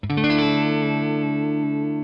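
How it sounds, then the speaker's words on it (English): An electric guitar through a modulation pedal rings out one strummed chord that holds for about two seconds with a slightly shimmering, moving texture, clear and close with no talk. "or add some movement and texture to your sound."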